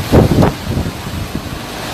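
Hurricane Dorian wind buffets the microphone in a steady, loud roar, with a heavier gust at the start.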